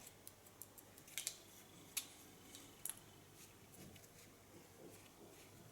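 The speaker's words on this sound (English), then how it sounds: "The Kiona scissors are that sharp so that you can shave with them." Ultra-sharp Kiona hair scissors slice through hair during a freehand pixie cut in a salon, giving several quiet, crisp snips at irregular intervals with no talking.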